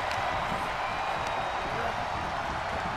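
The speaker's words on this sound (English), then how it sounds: "The sound of this crowd is deafening" Arena crowd roaring and cheering in a fighting video game, a dense, steady wall of crowd noise with no breaks, moderately loud and filling the whole moment.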